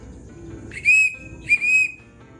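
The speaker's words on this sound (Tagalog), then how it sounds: "pito mo na" A handler blows a whistle at a pigeon loft to call racing pigeons home, giving two shrill, sustained blasts close and loud, separated by a short pause.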